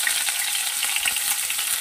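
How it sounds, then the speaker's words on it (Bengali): Chopped onions fry in hot oil for a spicy fish curry, making a steady, bright sizzle with faint stirring scrapes. No one speaks. "পেঁয়াজটা 1 মিনিটের মতন ভেজে নেব।"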